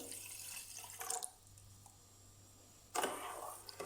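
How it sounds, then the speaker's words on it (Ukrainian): Two short bursts of cold running water splash into a cup of jelly powder, separated by a quiet pause with a low steady hum underneath. "Заливаю холодною водою."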